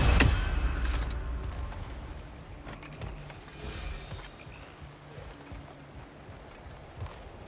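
A train in the video game God of War Ragnarök rolls by with a sharp initial burst and then a fading, rumbling clatter of wheels and carriage noise, moderately loud at first and tapering off.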